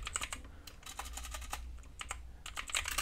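Rapid, continuous keystrokes on a computer keyboard, close and crisp, with an irregular rhythm of individual key clicks while account details are typed in.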